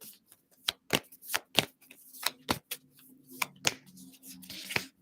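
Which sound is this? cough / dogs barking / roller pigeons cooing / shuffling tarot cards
shuffling tarot cards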